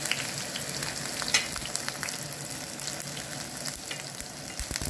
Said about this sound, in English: So while the garlic is frying here, I'm gonna add now